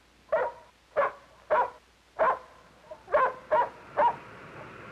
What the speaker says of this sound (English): That's Mr. Potter's dog